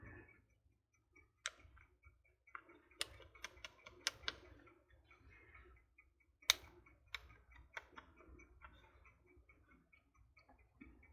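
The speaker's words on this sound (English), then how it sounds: "Can you hear that timer ticking?" Timer ticking quietly at a desk, faint irregular clicks and sharper ticks scattered across the whole stretch, close but soft with no talk.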